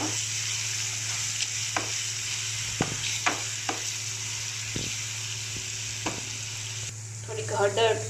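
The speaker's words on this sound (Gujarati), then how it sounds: "આમાં લસણ, આદુ, મરચાં એ બધું એડ કર્યું છે। હવે એને હલાવશું આપણે સરસ રીતના ચડી જાય" Garlic, ginger and chillies sizzle steadily in a hot pan for dhaba-style khichdi, with a spoon scraping and stirring now and then, loud and close, and no voices.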